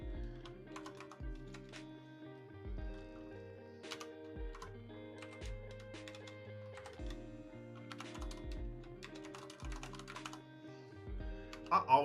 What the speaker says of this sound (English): I always feel like I'm a rusty typer whenever I have not typed in a while and I start again